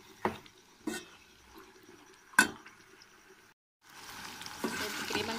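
Chicken offal cooking in a pan, with several sharp stirring knocks over a low sizzle, a brief pause, then a denser, louder frying hiss.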